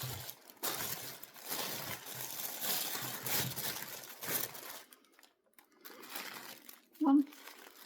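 Crinkly rustling of packaging, steady and close, with handling noises and a brief pause near the end before a sharper crackle.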